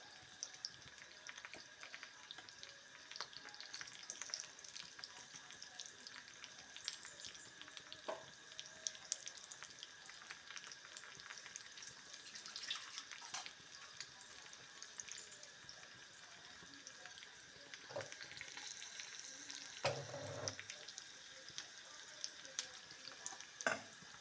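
Faint, steady sizzling of a tempering with a ground dried-chili mixture frying in a pot runs throughout, with occasional soft clinks and a brief low knock near the end.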